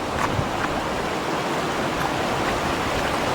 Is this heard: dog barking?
no